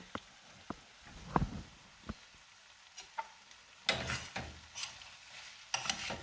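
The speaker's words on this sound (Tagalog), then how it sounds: "So, yan na yung ating onion. Nag-caramelize na siya." Onions caramelizing in a pan, with scattered spatula scrapes and clicks against the metal over a faint, low sizzle, growing busier toward the end.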